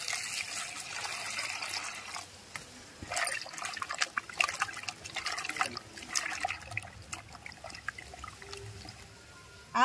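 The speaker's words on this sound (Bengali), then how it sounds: "এবার ধুয়ে নেব।" Chopped raw green mango pieces are rinsed in water in a home kitchen, with close splashing, sloshing and trickling that comes and goes, and a brief clatter at the end.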